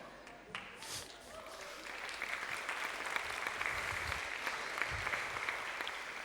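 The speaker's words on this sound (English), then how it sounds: "That's never got a round of applause before." An audience at a talk applauds, clapping building from scattered hands into steady moderate applause in a large room, with some faint voices and cheers underneath.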